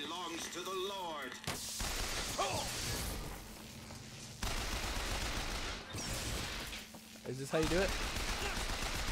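Bursts of close gunfire from shooting enemies in the first-person shooter Bioshock Infinite, with rapid shots, crashes and whooshes in several clusters, mixed with someone talking and warbling game voices.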